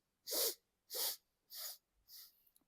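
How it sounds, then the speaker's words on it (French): Four sharp nasal sniffs in bouncing bursts during a breathing exercise, evenly spaced about half a second apart, close and clear, with the last one softer and trailing into faint breath. "On va renifler en rebondissant."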